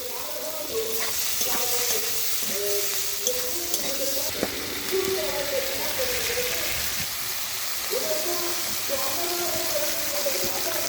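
A Bengali bhola fish curry (macher jhal) fries and is stirred in a pan with chopped coriander leaves: a busy, close sizzle with scraping stirs, and a faint voice drifts underneath.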